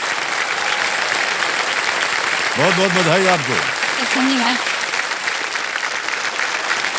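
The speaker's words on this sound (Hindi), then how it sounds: "तालियां बजते रहे इनके लिए।" Studio audience applause on the KBC High Flyers quiz show set, a steady broad clapping wash running throughout, with a host and a female contestant briefly exchanging words over it in the middle.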